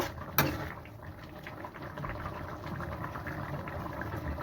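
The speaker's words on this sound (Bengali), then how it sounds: "তরকারি এখানে 1 মিনিট মতো ফুটবে" A vegetable curry boiling in a pot gives a steady low bubbling and simmering hiss, close and even throughout, with a single brief knock near the start.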